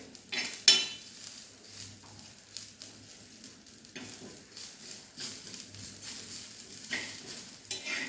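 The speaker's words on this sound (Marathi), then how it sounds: "गॅस थोडंसं मीडियम करत आहे आणि आता हे भाजून घ्यायचं आहे" Ingredients for mutton gravy are dry-roasted in a pan over a medium gas flame, with soft scraping and stirring strokes and a faint, low sizzle, quiet and close with no talking.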